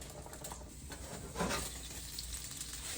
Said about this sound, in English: Our butter is melting.